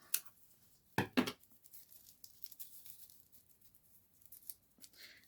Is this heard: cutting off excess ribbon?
yes